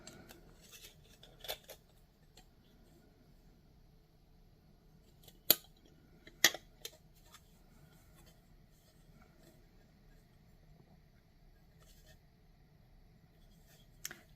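Scissors cut plastic for a gouache palette, a few sharp, quiet snips spread out over a mostly hushed stretch, with faint handling rustles in between.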